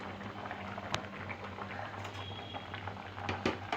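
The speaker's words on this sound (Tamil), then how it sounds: "இப்போ கொதி வந்துடுச்சு." A masala curry simmers in a pot, with a soft continuous bubbling and occasional pops close by, faint and steady throughout.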